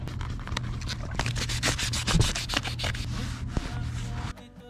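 Stainless steel boat stanchion bases being sanded back, a close, continuous gritty rubbing with quick repeated strokes and a low steady hum beneath, ending abruptly near the finish, with no speech.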